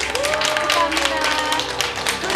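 A group claps together at a Buddhist temple after a long bowing practice, with brief bursts of clapping heard close and mixed with voices in the room.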